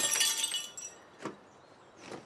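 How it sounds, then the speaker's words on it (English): A drinking glass dropped in a house, shattering with a bright crash, followed by a few separate tinkling clinks of falling shards as the noise dies away. "You were so far gone, you dropped your glass."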